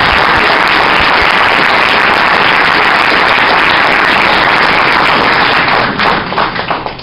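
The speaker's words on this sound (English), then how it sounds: "I'm going to give him a big round of applause right now" Loud, close audience applause at a boys soccer banquet, a thick roar of clapping that holds steady for several seconds, then thins into scattered claps as it fades out.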